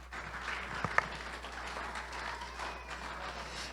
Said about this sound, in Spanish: Vamos a dar un aplauso fuerte a nuestro Padre Celestial.